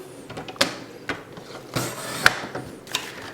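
Shimmer paper is sliced on a paper trimmer with rulers on both sides; soft sliding scrapes and a few sharp close clicks and taps come in separate bursts, with no talking.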